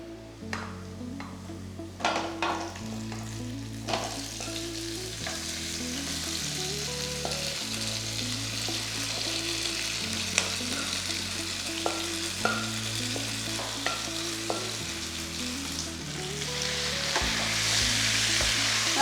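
Chicken pieces frying with onions over a high flame, a steady close sizzle with occasional stirring and light clinks of the pan throughout, and low background hum, no voices.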